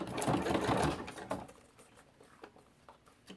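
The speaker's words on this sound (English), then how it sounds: "So I'm going to fold, take a few stitches and fold" A sewing machine stitches folded book-page paper into ruffles, a dense burst of rapid mechanical clatter for about a second and a half, then scattered quieter ticks and taps as the paper is folded between stitches.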